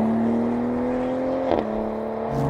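A BMW Z4 M40i roadster with a nearly 400-horsepower engine hums along steadily, its tone rising and then dropping at a gear change, close and continuous with no talking.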